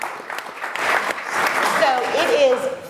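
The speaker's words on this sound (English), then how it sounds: "Can we get a round of applause for that one?" A round of audience applause, dense clapping swelling and holding steady, with a voice briefly heard over it near the end.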